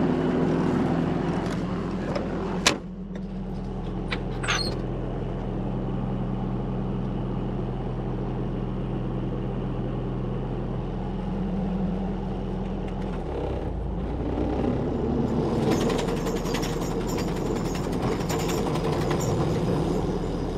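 A forestry mulcher clearing thick brush spins its drum up to speed, with a loud, constant diesel engine drone and a rising whir, a sharp clank early on, then heavier roaring, grinding hiss as the drum turns.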